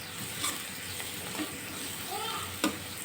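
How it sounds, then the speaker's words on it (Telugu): Garlic chili powder stirred into small bitter gourd curry in a hot pan, a steady sizzle broken by a few brief scraping strokes of the spoon. "ఎల్లిపాయ కారం బాగా వేసి వంట కలిసేట్టు కలిపేసుకోవాలి"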